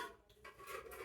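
Curry being served onto plates for a pre-dawn Ramadan sehri meal, with a few light clinks of dishes and cutlery, brief and close.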